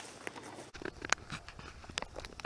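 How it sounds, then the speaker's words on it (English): Light rain begins falling outdoors among oak trees as a faint, sparse patter of scattered drops. Soft irregular ticks sound against a quiet background, with no voices. "It's starting to rain a little bit."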